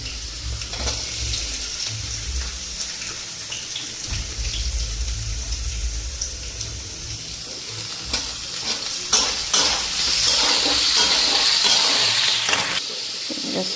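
Potatoes fry in oil in a pan with a continuous close sizzle, broken up by repeated stirring and scraping, and the hiss grows louder toward the end.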